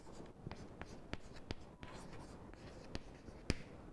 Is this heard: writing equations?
yes